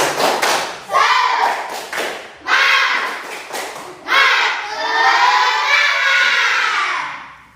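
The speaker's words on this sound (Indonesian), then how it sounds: "Sekali lagi, tepuk semangat." A school group does the rhythmic Indonesian spirit clap, tepuk semangat, in loud patterned bursts of clapping and thumping that end in shouts and cheering close by.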